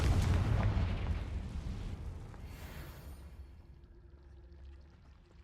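A Confringo fire spell goes off in Hogwarts Legacy, a loud, rumbling explosion that bursts out at once and then slowly fades into a low rumble, with no talking.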